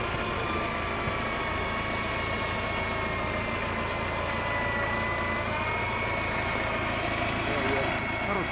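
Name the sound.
off-road 4x4 vehicle engine revving, wheel spinning in swamp mud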